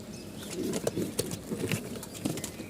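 Pigeons kept for sale coo softly in a steady string of low, throaty calls close by, with faint background noise and no clear talk.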